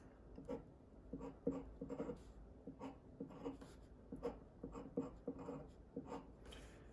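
Marker or pen strokes on a whiteboard drawing a benzene ring structure in an organic chemistry lesson: close, rhythmic squeaky scratches in short bursts with brief pauses, no talk.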